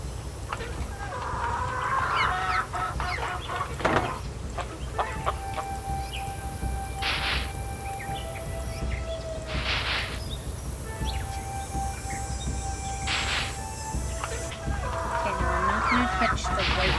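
Chickens cluck and squawk on a ranch in the Nancy Drew game Secret of Shadow Ranch, close and busy over a steady outdoor hum, with bursts of agitated calls near the start and end.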